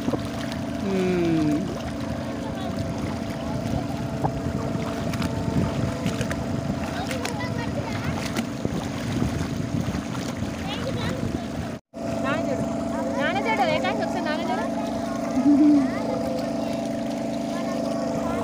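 A boat ride on the Godavari River at Basara, with a continuous engine drone, wind buffeting and water noise close by, while people talk and exclaim over it.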